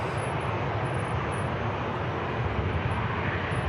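Ryanair and EasyJet airliners taxiing at Manchester Airport, a loud, steady engine roar close by with an even broadband rumble and a faint high whine on top.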